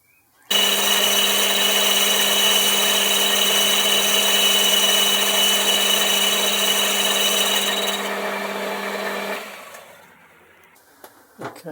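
A metal lathe or machine runs steadily while a taper is cut in metal, a loud continuous whine for about nine seconds before it spins down, with no talking.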